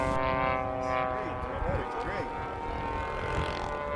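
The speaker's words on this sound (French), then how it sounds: "Fred Sattler à l'atterrissage, très bon pilote qui pratique le racer depuis très longtemps aussi" A radio-controlled pylon racing model airplane comes in to land at a 1998 world championship event, its thin high-pitched engine whine continuous and wavering in pitch while a commentator talks over it.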